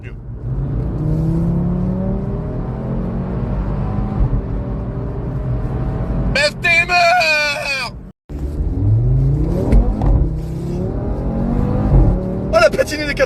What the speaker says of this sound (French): Oh, la patinée des 4 roues. Oh, le passage de vitesse.